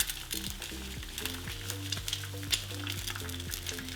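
Eggs fry in a hot pan inside cookie cutters, a constant crackling sizzle with small pops, close and fairly quiet, with utensil clinks ringing faintly over it.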